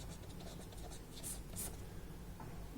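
A pen writes on paper during a Hindi talk on astrology, scratching softly and faintly in short strokes over a quiet room for a few seconds.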